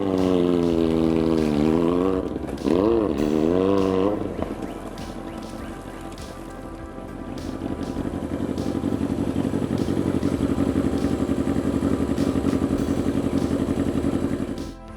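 A loud, raw Kawasaki ZR-7S motorcycle engine without a muffler revs up and down, then settles into a harsh, steady roar close by.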